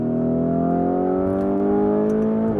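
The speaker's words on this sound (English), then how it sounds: "What do we think of the noise from within the cabin?" A 2020 Lamborghini Urus with its twin-turbo V8, heard from inside the cabin: a steady, fairly loud engine drone with layered harmonics holding an even pitch, easing slightly near the end, with no talking.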